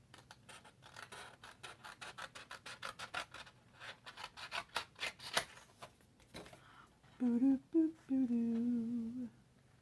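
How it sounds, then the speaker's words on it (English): A craft knife slices through a cardboard box in a run of quick, rhythmic scratchy strokes, close and fairly faint, before a voice hums or sings a few tones near the end. "I'm trying to do the X-Acto knife again."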